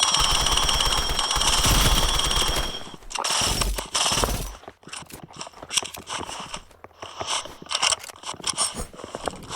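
Pearl Rifle shots in a video game crack out in loud bursts, first dense sustained firing then scattered sharp single shots amid game noise.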